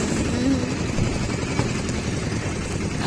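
A farm tractor engine runs steadily on a rural plantation trip, a low rumbling drone with constant chugging and no pauses, fairly close and loud throughout.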